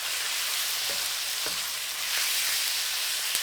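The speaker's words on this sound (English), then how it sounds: "Add the pork. Briefly stir so that the garlic and caramel don't burn." Pork fries with chopped garlic and caramel for caramelized pork, giving a dense, even sizzle close to the pan, with a few soft taps as it is briefly stirred.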